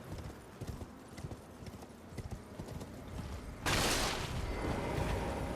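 Horse hooves clip-clop in a steady galloping rhythm in Elden Ring, close and continuous, then a louder broadband rush swells in over the last two seconds while the hooves keep going.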